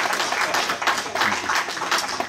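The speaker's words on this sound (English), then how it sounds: "Would you give her a round of applause" Applause from the audience for a female keyboard player at the WPAQ Merry-Go-Round live music show, a steady, dense wash of clapping sustained for a couple of seconds.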